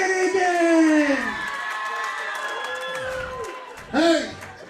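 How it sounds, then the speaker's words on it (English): Wrestling arena crowd at an SICW All-Star Wrestling show cheering and whooping loudly as a wrestler enters, a sustained roar with shouts and a fresh swell near the end, voices calling out over it. "I want to bet you're going to hear a lot of cheers. They're already starting."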